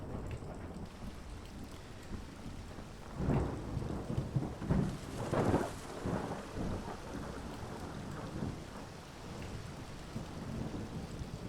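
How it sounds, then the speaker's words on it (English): A video game thunderstorm in Skyrim with the Vivid Weather mod: steady rain hiss with a deep, rolling thunder rumble swelling through the middle, then easing back to rain alone. "and some really intense thunderstorms"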